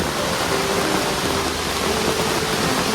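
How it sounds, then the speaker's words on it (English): Steady rain falling outdoors at a solo campsite at Blue Mounds, near a small tarp shelter; an even, continuous hiss without a break, fairly close and without voices. "The rains came."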